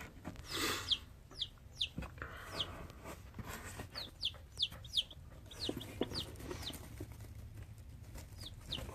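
Baby chicks on their first day make rapid, high-pitched cheeps, repeated close by in quick irregular bursts over soft rustling.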